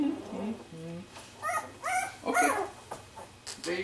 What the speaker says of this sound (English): Can you hear them growling? I love that they can growl and bark now.